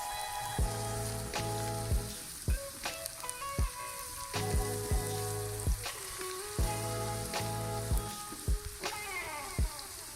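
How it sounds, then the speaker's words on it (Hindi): Garlic-ginger paste fries in a pan for an egg and cauliflower curry with a soft, steady sizzle, broken by regular sharp knocks of a spoon against the pan as it is stirred, close and without talk. "चंद सेकंड इसे फ्राई करना है। और इसे अच्छे से मिक्स कर देना है।"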